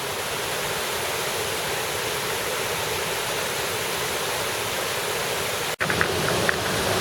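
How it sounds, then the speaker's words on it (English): A waterfall and stream in a tropical jungle canyon in the Los Tuxtlas region of Veracruz, Mexico, roar as a steady, loud, broadband rush of water, with a brief knock near the end. "Just behind me is another waterfall."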